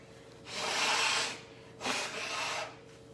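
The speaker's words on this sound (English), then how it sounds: "you're going to bend over and let it come out while you blow" During a sinus rinse, a person bent over forcefully blows their nose out twice, close up: a long breathy blast, then a second shorter blast after a brief pause, with no speech.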